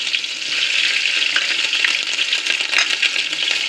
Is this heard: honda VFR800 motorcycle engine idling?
no